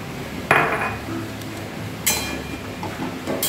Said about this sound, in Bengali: এবার এতে আমি এই মশলা বাটাটা, যে মশলাটা বাটলাম ভিজিয়ে রেখে, সেইটা এবার এতে মিশিয়ে দিচ্ছি।